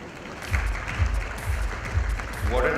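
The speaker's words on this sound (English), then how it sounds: "What an applause you got." A crowd at an on-stage talk event claps for a co-host joining the stage, a broad wash of applause with a voice heard over it and a few low thumps.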